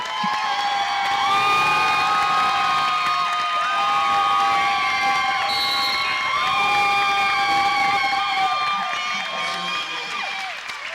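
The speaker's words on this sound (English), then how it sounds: "The crowd cheering as the seniors will exit" A basketball crowd cheers as the seniors leave the court, sustained shouting and whoops with high, bright voices, loud and continuous, with some talk mixed in.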